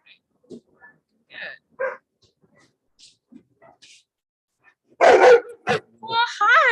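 A dog makes a fuss indoors with scattered yips and short barks that build into a loud, close burst of barking, then a rising whimper at the end; a person talks quietly among the sounds.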